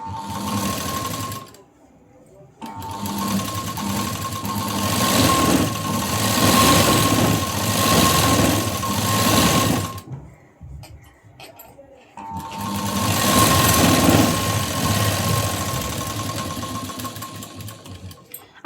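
A sewing machine stitches a sleeve joint with a half-inch margin in several long, steady runs of rapid whirring and rattling, with brief stops between them and no talking over the motor.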